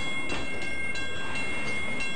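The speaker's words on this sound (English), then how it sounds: "Yeah, it's a CTA train." A CTA light-rail train in a video game pulls away, a steady rolling rumble with faint repeating clacks of wheels over rail joints, heard alone at moderate level.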